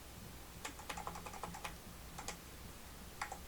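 Computer keyboard keys pressed while working in Illustrator: a quiet, irregular run of light clicks and taps, some in quick pairs, with a brief pause mid-way, close and alone.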